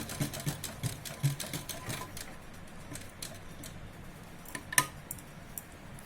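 A sewing machine stitches an A-line nighty at home in short, irregular bursts of quiet ticking and tapping, with a sharper knock midway and low room noise between.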